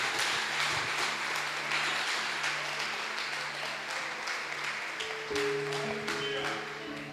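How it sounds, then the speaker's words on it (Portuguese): Church congregation applauding during a Portuguese-language sermon, a steady broadband wash of clapping that fills the whole stretch, with faint voices and sustained musical tones underneath. "Se vai aplaudir, aplaude, porque é para Jesus."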